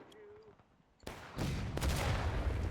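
An artillery shot in a Civil War–style video game battle, a sudden loud boom that rolls into a sustained low rumble, with a voice talking briefly just before.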